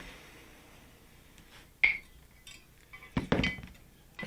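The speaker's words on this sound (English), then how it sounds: "I have to take the hacksaw off" Metal clinks and knocks as a hacksaw blade is unfastened and flipped on the frame during bodywork on an MGB GT door, with a sharp clink midway and a rattling cluster of handling noises near the end, fairly quiet overall.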